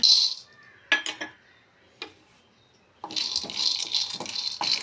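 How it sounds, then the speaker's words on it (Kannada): Peanuts are tipped into a pan for roasting over a low flame. A few scattered clinks come first, then a sustained, close, rattling pour of nuts hitting metal. "ಈಗ ಕಡಲೆ ಬೀಜ ಹಾಕೋಣ."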